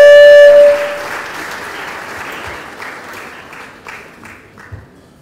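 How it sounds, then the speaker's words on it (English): Applause at a public lecture, a soft scattered clapping from the audience that follows a brief loud tone at the start and thins into a few faint claps. "A hand of applause for me."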